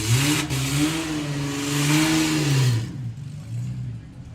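A newly supercharged altered drag racer idles in reverse at a nostalgia drag racing event, its lumpy, close engine note wavering up and down for a few seconds before dropping away to quiet.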